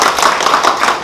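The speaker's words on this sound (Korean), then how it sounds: "그럼 박수를 계속 치는 거예요." An audience in a lecture hall claps, a short burst of many hands patting together in a dense, even flutter, loud and close, with no talking.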